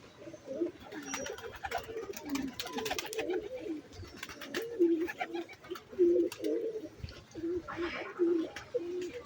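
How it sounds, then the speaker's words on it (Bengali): Pigeons on a house rooftop coo in repeated soft, throaty phrases at moderate distance, the calls rising and falling over about nine seconds with light background noise. "একটা পায়রা দেখো এখানে বসে রয়েছে, মানে বসেছিল।"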